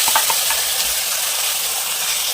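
An onion-tomato puree with sesame and garlic fries in hot oil, giving a steady, close sizzling hiss with no voices.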